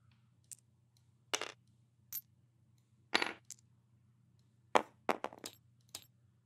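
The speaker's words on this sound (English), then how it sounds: "we get to roll 3 mana dice" Three mana dice for the Mage Knight board game rattle and clatter onto a table in a quiet room, short sharp plastic clicks and bounces in scattered bursts before settling.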